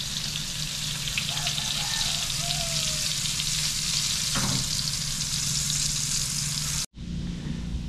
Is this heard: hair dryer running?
no